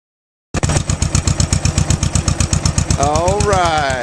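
An old tractor engine, just started by hand cranking, thumps into a loud, steady rhythmic chug from silence, with a whining tone rising over it near the end.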